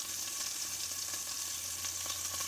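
Meat searing in a hot pan, giving a dense, continuous close sizzle with faint crackles and no voices.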